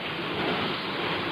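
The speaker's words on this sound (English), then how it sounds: "the sound of rain." Steady rain hisses down in a dense, even wash of broadband noise, moderately loud and unchanging, with no voices.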